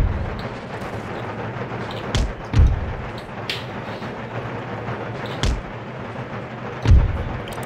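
Artillery fire in Empire Total War (Darthmod) during a Netherlands campaign battle: a few deep, spaced booms over a constant low battlefield rumble, moderately loud and with no talking.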